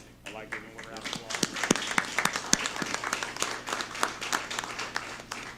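An audience at a Vigo County commissioners meeting breaks into applause, a close, steady patter of many hands clapping that keeps going to the end.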